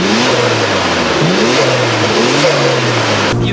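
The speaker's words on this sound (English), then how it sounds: "You do have to rev it up to get the power out of it." A Nissan GT-R engine with forged internals, an iron block and six individual throttle bodies, swapped into a four-door sedan, revs loud and close in rising and falling surges, with no talking.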